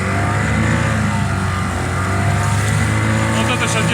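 A Yamaha 25N outboard motor, freshly repaired and still on break-in fuel mix, runs steadily at around 4000 rpm: a continuous, loud, close droning engine note, with a voice talking over it.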